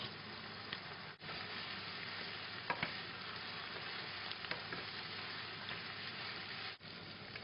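Garlic and sausage fry in a pan for a French cassoulet, a constant soft hiss and crackle with a few small pops, fairly faint and steady, no voices.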